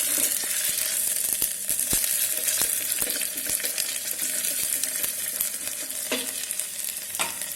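Ginger garlic paste stirred and sizzling in an electric kettle, a steady close frying hiss broken by repeated clicks and scrapes of the spoon against the pot.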